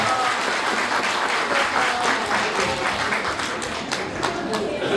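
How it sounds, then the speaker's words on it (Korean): Wedding guests in a convention hall applaud as the bride and groom exchange their first bow, a dense, steady wash of clapping that fills the room without pause. "여러분 뜨거운 박수 부탁드리겠습니다"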